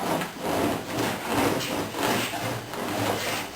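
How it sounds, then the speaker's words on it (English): Paint roller spreading epoxy over a fabric weave, a steady soft rubbing swish repeating in even back-and-forth strokes, close and alone. "using the roller to get you an even coat"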